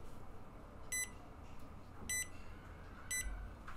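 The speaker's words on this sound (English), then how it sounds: "the buzzer is getting on" An electronic buzzer on an EOG eye-blink detection circuit beeps three times, about once a second, with short high-pitched tones over a faint background hum.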